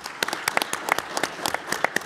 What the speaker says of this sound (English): please join me again in giving a round of applause